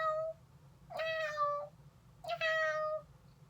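A person imitates a cat with two drawn-out, fairly realistic meows, each rising and falling, separated by a short pause over a quiet low hum.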